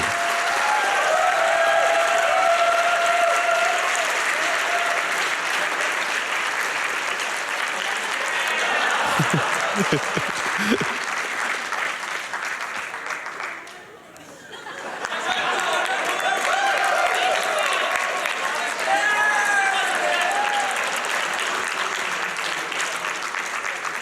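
Sustained applause from a live audience at the SGDQ 2019 charity speedrun marathon, a dense, steady wash of clapping with a few cheers that briefly dips and then swells again.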